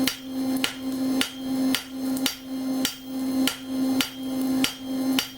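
Stainless steel is hammered over the edge of an anvil to neck down a spoon blank, giving loud, close, ringing metallic blows in a steady rhythm of about nine strikes, each with a clear sustained ring.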